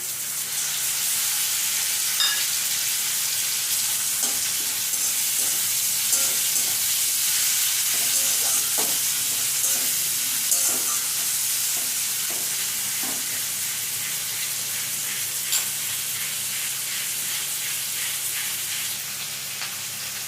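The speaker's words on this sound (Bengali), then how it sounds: "পেঁয়াজটা লাল লাল হয়ে গেছে, এবারে টমেটো কোচানোটা দিয়ে দিচ্ছি।" Chopped tomato frying with browned onions in a pan for a tilapia fish curry, a steady loud sizzle with scattered crackles and occasional stirring scrapes throughout.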